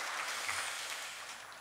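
A church congregation applauds the choir, a dense steady wash of many hands clapping at once, fairly faint and distant in a large room.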